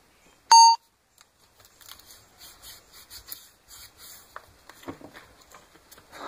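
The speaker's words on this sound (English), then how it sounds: "Sounds like I'm getting emails." A phone gives a short, loud electronic beep for an incoming email notification, followed by faint scattered tapping and rustling.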